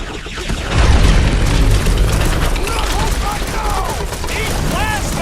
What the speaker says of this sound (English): Bombs away, Rocket!